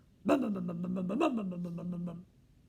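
A voice imitates a rattly old car engine with a rough, sputtering, pulsing growl lasting about two seconds, rising briefly midway.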